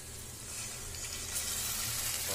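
Spinach going into paneer already frying in a pan, giving a steady close hiss and crackle of sizzling that runs evenly for a couple of seconds with no voices.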